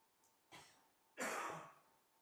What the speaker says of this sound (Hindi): ज्यादा खांसी आया तो बाहर खांस लीजिए